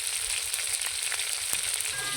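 Chicken head frying in hot oil in a pan, a steady close crackling sizzle with scattered pops throughout and no talking.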